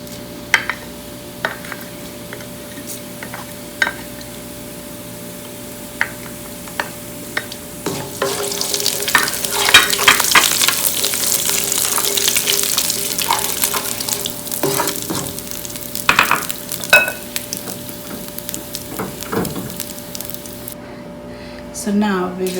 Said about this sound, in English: this is couple teaspoon of oil, and we will add our cumin seed